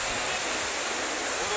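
Athirappilly waterfall in Kerala roars as a dense, steady broadband rush, loud and unbroken with no other sounds.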